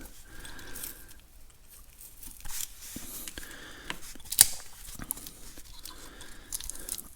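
Cosmoline-coated wrapping paper peeled in layers off new old stock pistons, soft crinkling, tearing and rustling in uneven bursts with one sharper crackle, close and quiet, no voices.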